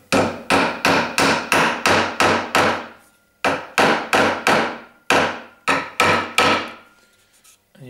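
Hammer blows drive pins into timber while fitting drawer runners, sharp close wooden knocks in quick rhythmic runs of several strikes separated by short pauses.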